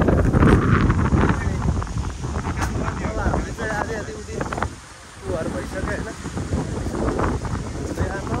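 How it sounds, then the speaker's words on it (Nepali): Strong, cold wind at a beach roars and buffets the microphone steadily, with voices faintly audible beneath the gusts. "आज हावा त के साह्रो हावा चाहिँ मस्त चलेको छ"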